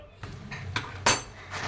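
A metal lid set onto a pot of simmering kadhi on a gas stove gives a single short, sharp clink amid faint kitchen rustling.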